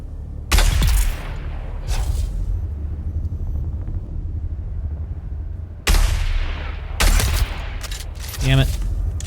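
Sniper rifle shots ring out in Dune: Awakening, four loud, sharp blasts spaced several seconds apart, each followed by a rolling boom over a low background rumble.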